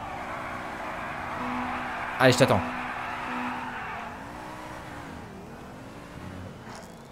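Car engines drone in a GTA 5 street drive, with a short, loud burst of tire squeal partway through and a faint passing vehicle near the end, while someone talks over it.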